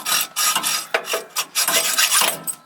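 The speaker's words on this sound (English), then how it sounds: "we need to take the hacksaw and cut about half of it off" A hacksaw rasps through a steel leaf spring bolt in rapid back-and-forth strokes, loud and close, each stroke a harsh scraping burst with brief gaps between.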